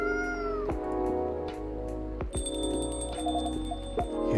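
A cat meows in the video game Coffee Talk 2, several drawn-out tonal cries over soft background game music, with a bright chiming ring joining partway through.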